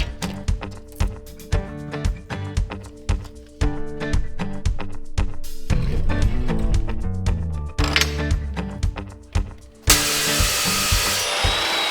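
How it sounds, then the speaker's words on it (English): A saw chops sections of steel plate for car hauler trailer brackets, with repeated sharp rhythmic strokes and clanks, then a denser grinding run, and a bright sustained hiss near the end. "I can just chop off sections of it on my saw."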